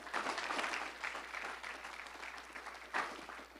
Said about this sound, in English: Another round of applause for Whitney, please.